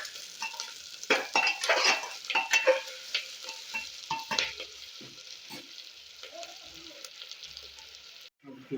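Onions fry in a pan for rajma curry in a village-style kitchen, a soft steady sizzle broken by repeated scraping strokes of a spoon stirring, close and moderately loud, with no talking.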